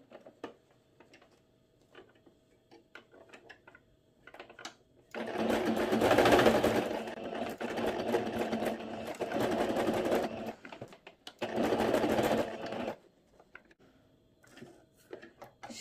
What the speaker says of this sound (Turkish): şu ortada bıraktığım kısmı da tekrar dikiyorum